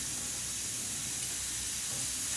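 Whole spices such as bay leaf, cinnamon and cloves hitting hot ghee for khichuri, a steady loud hiss and sizzle, close and continuous.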